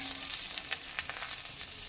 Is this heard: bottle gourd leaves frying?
yes